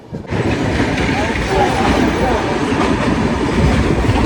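A moving train running between Hazur Sahib and Nanak Jhira rumbles steadily and close, with continuous rattling wheel noise across the whole stretch and people talking faintly beneath it.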